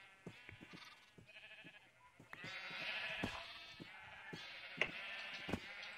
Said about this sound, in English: we refer to them as Jeb instead of sheep because they're different